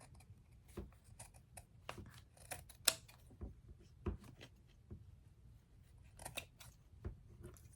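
Scissors snip repeatedly through the paper and fabric edges of a junk journal made from a Jim Thompson store bag, a series of close, sharp cuts at an uneven pace with quiet pauses between them.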